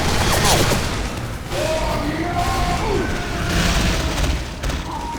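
An explosion in the Five Nights at Freddy's: Sister Location video game, a loud booming blast with crashing debris and swooshing effects amid game sounds.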